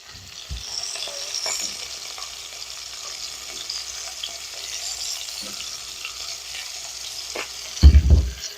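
Browned, extra-crispy chicken pieces fry in a pan, giving a steady moderate sizzle with a few soft stirring scrapes and a brief loud knock near the end, close by and without speech.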